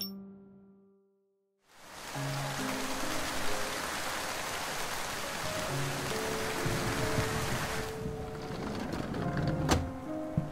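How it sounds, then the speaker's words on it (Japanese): Sudden heavy rain bursts in after a brief quiet, a dense, loud, steady hiss of downpour drumming on surfaces, with faint musical tones lingering underneath and an occasional knock near the end. "急にすごい雨だね。"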